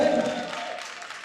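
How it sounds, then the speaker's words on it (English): Brief crowd applause, a dense wash of clapping that fades over about a second. "A round of applause"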